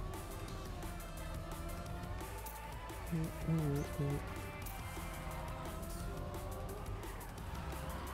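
A car drifting in a racing video game, tyre squeal and engine whine running under steady background music, with a brief sharper skid in the middle and a voice talking over it.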